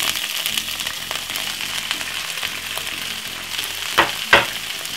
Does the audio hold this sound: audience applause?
no